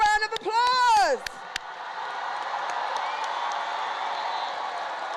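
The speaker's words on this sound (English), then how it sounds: "Let's give our graduates another round of applause." At a high school commencement for graduates, a crowd applauds and cheers, starting with a loud whoop and then settling into a sustained, fairly distant wash of clapping.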